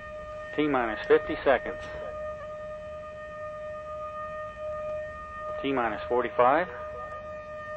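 Steady siren tones sound through a countdown at a 5-segment Ares booster rocket motor test, a continuous layered wail heard at moderate distance under an announcer calling out the time.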